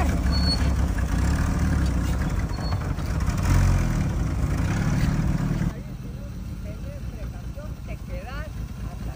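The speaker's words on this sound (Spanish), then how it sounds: "No puede ir de recto sin brincar el carro." A car driving and bouncing over a rough field, with a loud rumbling engine and road noise throughout that becomes quieter partway through, while people talk over it.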